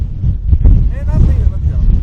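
Wind gusting by Jelly Lake on Kodiak, Alaska, a steady low rumble buffeting the microphone throughout, with a voice talking over it.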